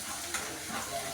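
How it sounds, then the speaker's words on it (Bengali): Chopped ginger and whole cumin sizzle in hot oil in a pan over lowered heat, a faint, steady frying hiss with no talking. "ওটা তেলের মধ্যে আমি ভেজে নেব।"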